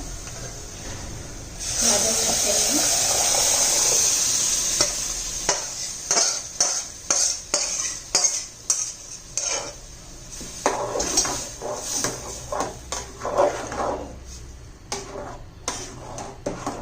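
Mashed vegetables for pav bhaji drop into a hot pan with a brief hissing sizzle, then a spoon stirs and taps against the pan in a quick, uneven rhythm, close and moderately loud.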